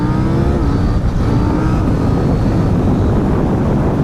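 A KTM 790 Duke motorcycle with traction and wheelie control switched off revs hard and accelerates into a wheelie, its loud, continuous engine roar rising steadily up close with no pause and no voices over it.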